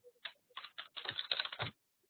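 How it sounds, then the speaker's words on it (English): Fingers type on a computer keyboard up close, with a few quick separate key taps and then a rapid run of clattering strokes before it stops. "I too could start typing."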